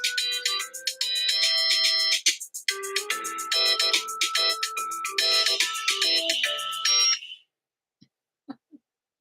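Phone ringtone plays a bright repeating melodic pattern for about seven seconds, fairly loud and close, then stops, followed by a few faint knocks.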